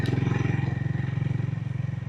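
A motorcycle engine, ridden from Jorethang to Namchi, runs with a steady low, rapid thumping pulse close by, holding an even rhythm throughout.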